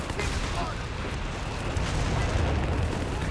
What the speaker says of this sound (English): Close range barrage from the M5 though.